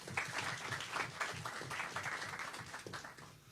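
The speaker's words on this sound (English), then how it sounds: "Give him a round of applause" Applause from the audience at a government press conference on Carifesta participation and hurricane recovery, a steady patter of clapping lasting a few seconds under room noise, moderately distant and fairly quiet.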